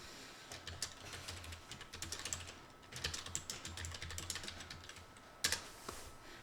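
Someone types a short entry on a computer keyboard in Excel 2016, giving quiet, quick key clicks in uneven bursts with brief pauses between them.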